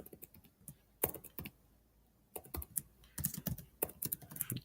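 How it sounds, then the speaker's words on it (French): Keystrokes on a computer keyboard while entering a name in Google Docs, arriving in quick bursts of close, crisp clicks with a short pause in between. "Keren, taper le nom de la personne."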